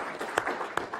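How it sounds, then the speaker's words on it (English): Short burst of applause for Sarah at a tech policy conference as the mic is handed over, a brief patter of clapping with a couple of sharper claps, fairly close. "So I just want to give Sarah a quick round of applause as I pass over the mic to her for the future."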